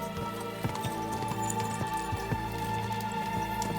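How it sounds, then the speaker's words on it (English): A horse gallops in Kingdom Come: Deliverance 2, its hooves thudding in a quick, fairly regular beat under a steady hum of background game sound, faint and distant in the mix. "Parece que o cavalo já está mais rápido."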